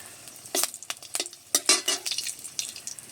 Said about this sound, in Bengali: কড়াইতে সরষের তেল দিয়ে দিয়েছি, আর আমি 3টে শুকনো লঙ্কা দিয়ে দিচ্ছি কেটে।